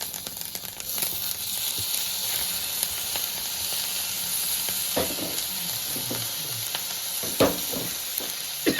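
Chopped tomato frying and sizzling in a pan with cooked bamboo shoots, a steady close hiss running throughout with occasional stirring clatters and a sharper scrape near the end, no voices.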